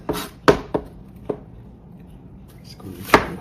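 A knife slices through an onion on a cutting board in a home kitchen: several sharp, separate chops at uneven intervals with quiet pauses between, close and fairly soft.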